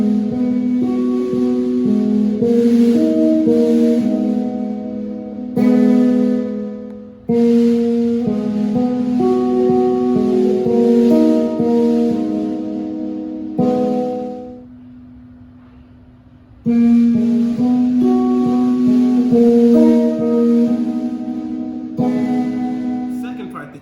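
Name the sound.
guitar playing riff slowly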